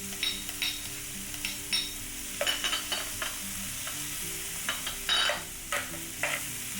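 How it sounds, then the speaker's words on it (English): Onion and garlic stir-fried in a pan for black pepper sauce: a steady sizzle under repeated scraping and clinking strokes of a utensil against the pan, coming in irregular bursts, with no voices. "Just stir fry it for a couple of minutes."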